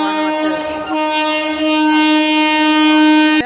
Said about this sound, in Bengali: তো গাইস মালগাড়ি ফাইনালি চলে গেল।